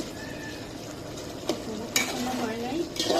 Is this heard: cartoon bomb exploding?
no